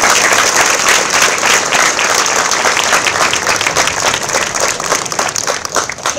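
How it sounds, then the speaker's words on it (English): A school moving-up ceremony audience applauds the Student Council, loud close-up clapping from many hands, steady and dense before gradually thinning toward the end. "Let's give them a well-deserved round of"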